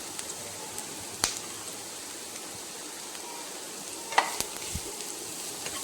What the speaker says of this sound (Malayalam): ഒന്ന് വാടി വരുന്നത് വരെ ഒന്നിത് വഴറ്റി കൊടുക്കാം.